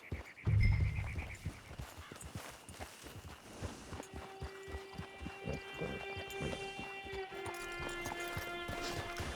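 Steady clip-clop of horse hooves at a walking pace in the video game Red Dead Redemption Online, close by, with a low rumble at the start and a faint sustained musical hum underneath.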